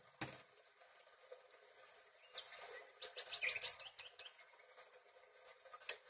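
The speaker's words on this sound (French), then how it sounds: "On écoute les oiseaux et la rivière" Birds chirp and call in scattered bursts over a soft, steady flowing water background, with a brief tap at the start.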